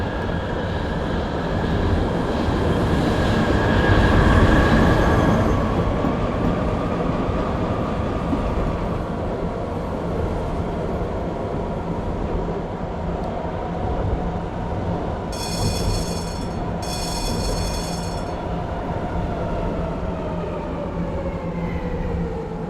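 Frankfurt U-Bahn train in Train Simulator running steadily, a broad continuous rumble of motors and wheels on rail that swells early, then holds, with a brief chime-like tone near the end.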